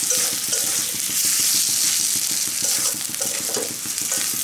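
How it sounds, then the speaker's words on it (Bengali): Fried egg whites sizzle loudly in a pan with spices, with a rapid series of scraping and stirring strokes over the constant frying hiss. "মশলার সঙ্গে একটু নাড়ি চেড়ে নেব"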